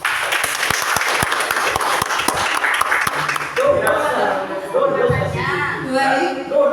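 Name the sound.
audience applause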